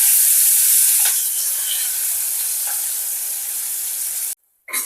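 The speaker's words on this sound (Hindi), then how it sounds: "अब इसके अंदर मैं प्याज और कड़ी पत्ता ऐड करूंगी।" Onion and curry leaves dropped into hot oil already crackling with mustard seeds, cumin and asafoetida: a loud, bright, continuous sizzle and hiss, which cuts out abruptly near the end and then briefly resumes.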